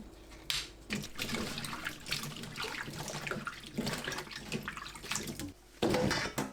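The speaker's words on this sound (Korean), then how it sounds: "생강을 씻어주세요." Tap water runs steadily as fresh ginger is rinsed and rubbed by hand in a kitchen sink, with small splashes and a louder gush near the end.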